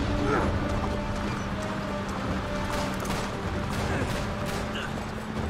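Horse hooves gallop in a steady clip-clop during an Uncharted 3: Drake's Deception gameplay scene, mixed with bursts of gunfire and game ambience, fairly loud and continuous throughout.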